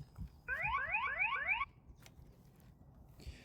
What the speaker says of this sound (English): if someone tries to move the bike, it's going to play like an alarm sound